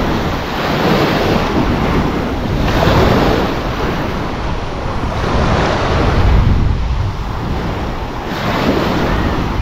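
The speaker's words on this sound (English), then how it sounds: "A wave will come in and it'll wash the sand right from underneath your feet." Ocean surf surges and washes onto a sandy beach lined with beach bars and small hotels in Placencia, steady loud swells rising and falling with wind buffeting the microphone, no voices.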